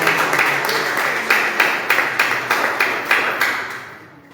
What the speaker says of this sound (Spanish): Dale fuerte el aplauso a Cristo.